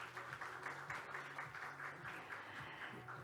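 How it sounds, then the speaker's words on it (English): Audience at a forum session on Jeju gives a warm round of applause: a faint, continuous wash of many hands clapping at a distance, steady throughout with mild rhythmic swells and a low hum underneath. "Please give him another warm round of applause"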